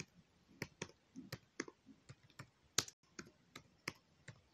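Keystrokes on a computer keyboard as a Python print command is typed into an interpreter under Kali Linux: a dozen or so sharp, close clicks in an uneven typing rhythm, quiet overall with no talking.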